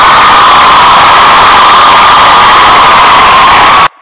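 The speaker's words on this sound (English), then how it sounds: "I hit it with the crowd sound effect" Crowd cheering sound effect played as congratulations for a new father, a loud continuous roar of cheers and whoops filling nearly four seconds before cutting off abruptly.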